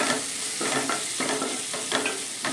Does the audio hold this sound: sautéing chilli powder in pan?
yes